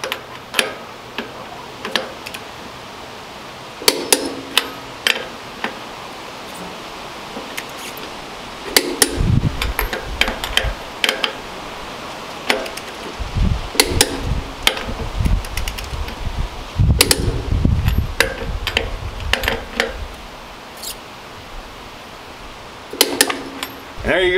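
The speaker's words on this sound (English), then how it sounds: "Let's torque these bad boys down." A torque wrench clicks repeatedly while trailer wheel lug nuts are tightened to 105 pounds of torque, sharp metallic ticks in irregular clusters, close by, with occasional clanks and handling noise between them.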